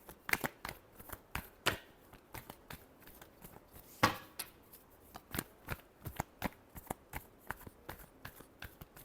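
A tarot deck is shuffled by hand nearby, a quiet run of repeated soft riffling taps and card slaps in an uneven rhythm, with no voices.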